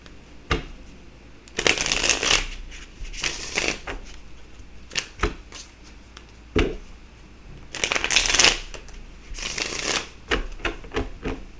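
Playing cards riffle and shuffle in several quick bursts, crisp and close, with soft taps and handling noises between the shuffles.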